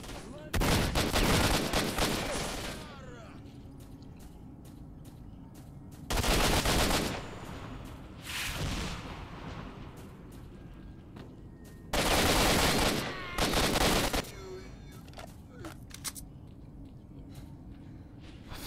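Bursts of automatic gunfire in S.T.A.L.K.E.R.: Shadow of Chernobyl, three loud sustained volleys separated by quieter stretches of scattered shots, clicks and game ambience, with someone talking briefly.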